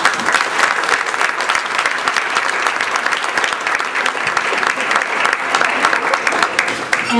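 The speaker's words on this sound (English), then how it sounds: "A round of applause." Loud, dense applause from a fundraising gala audience for volunteers of an orthopedic health foundation, continuous and steady throughout with a faint murmur of voices mixed in.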